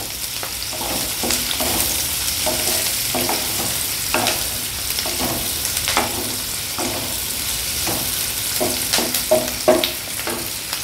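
Onions fry in a pan for soya masala, a steady close sizzle broken by repeated scraping stirs of a spoon against the pan at an uneven rhythm, with no talk.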